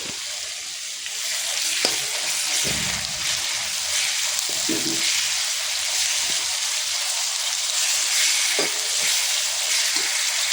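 Chopped large onions sizzle steadily in hot oil for a mutton curry, a continuous close frying hiss with a few soft stirring scrapes and clinks along the way, no voices.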